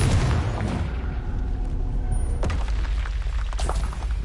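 In Hogwarts Legacy, spell blasts boom from the PS5 game, with a deep, heavy rumble that fills the clip and a fresh explosive burst about halfway through, loud and continuous with no voices.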